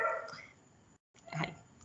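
A dog barks in a couple of short, faint bursts in a home during a spoken class presentation on biochemistry, with no voices over it.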